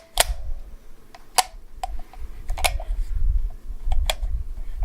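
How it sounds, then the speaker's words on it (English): Swiss K-31 rifle bolt worked by hand, giving a few sharp, close metallic clicks and ticks spaced about a second apart, with quiet handling noise between them. "That's the bolt spinning."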